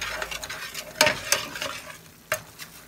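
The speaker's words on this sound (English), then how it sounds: "Stir this around, get it all nice and mixed up." Curry powder and bouillon stirred into a chicken and broccoli casserole mixture, a spoon scraping the pot in several sharp strokes over a low simmering sizzle.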